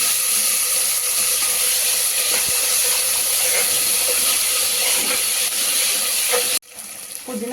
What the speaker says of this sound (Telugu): అల్లం వెల్లుల్లి పేస్ట్ ఫ్రై చేసుకున్నాక పుదీనా కొంచెం పుదీనా వేసేసి ఫ్రై చేసుకోవాలండి